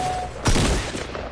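A single sharp hunting rifle shot in Fortnite cracks loudly and decays over about a second against steady background game noise.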